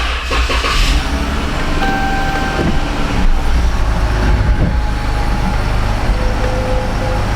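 A 2014 Dodge Charger with an ABS fault backs slowly out of a repair shop, a loud, steady low engine and cabin rumble heard from up close, with no talking.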